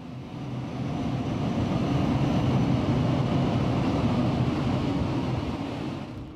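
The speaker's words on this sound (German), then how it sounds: "111-161 zieht ihren Zug nun aus dem Bahnhof Plochingen." A class 111 electric locomotive hauls a double-deck passenger train out of Plochingen station, a steady broad rumble that swells and holds at moderate distance throughout without any voices.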